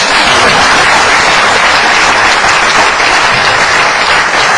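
A large audience claps loudly and steadily, a dense continuous wash of applause from start to finish.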